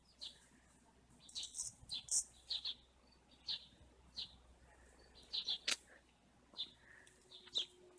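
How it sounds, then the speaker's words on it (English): A small flock of birds chirps outdoors in short, bright, repeated calls, scattered and fairly close, with no one talking. "There's a little party going on of birds."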